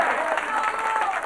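A studio audience claps steadily at a live Italian satirical comedy show, a dense, continuous patter of many hands filling the whole short moment with no pause.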